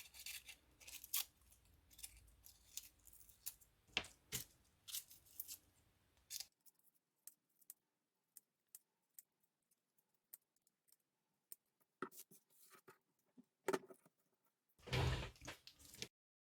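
Scissors snipping excess napkin off handmade napkin-and-nail-varnish craft buttons, heard as soft, sparse clipping and rustling snips close by in a quiet room, with a louder handling noise near the end.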